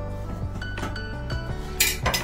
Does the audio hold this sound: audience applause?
no